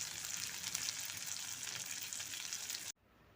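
Mackerel (bangda) fish frying crisp in oil in a small pan, a continuous quiet sizzle with bright crackling that cuts off abruptly near the end.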